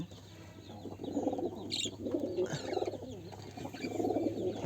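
Pigeons coo in low, throaty, repeated phrases, fairly close, over a steady background hum with a brief higher chirp partway through.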